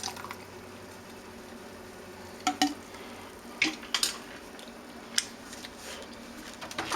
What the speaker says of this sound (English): I'm going to give it a little bit more of a stir here.